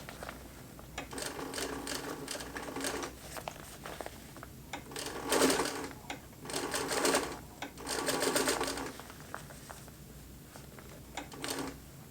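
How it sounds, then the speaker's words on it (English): Sewing machine stitching a neoprene waist pack with bonded thread and binding, running in short mechanical bursts of rapid chattering with brief pauses between, close and fairly loud. "I could probably sew this quite a bit faster"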